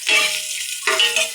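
Ginger sautéing in a pan, two bursts of close, bright sizzling separated by a short quieter stretch, with no talking.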